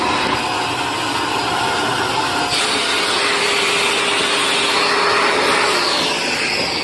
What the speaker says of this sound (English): I also left the Shark vacuum sitting out in the rain overnight